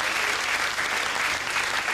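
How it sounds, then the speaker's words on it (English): Steady, dense applause from a comedy club audience greeting the show's host, loud and continuous throughout with no voices breaking through. "Give your host a round of applause, man."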